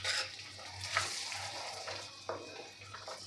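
A spoon stirs chili powders and spices in a pan of hot oil for a drumstick curry, giving soft scrapes and light knocks over a quiet, continuous sizzle.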